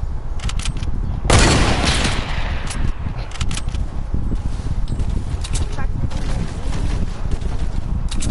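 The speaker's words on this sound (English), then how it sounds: "Shooting kind of stuff." Bursts of video game gunfire crackle through a steady windy background, with sharp repeated shots clustered near the start and scattered reports afterward.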